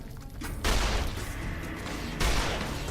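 Gunfire in the video game Fallout: two heavy, loud booming blasts, each trailing off into a long, dense rumble.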